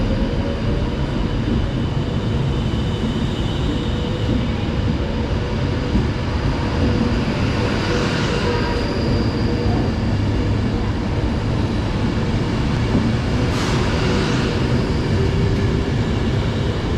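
A Class 390 electric train departs Penrith station, producing a loud, steady rolling rumble and rail noise close by that holds constant throughout.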